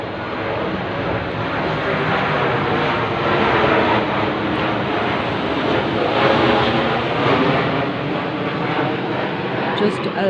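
A steady broadband roar of aircraft passes overhead in the early morning, loud and continuous for the whole stretch with no gaps.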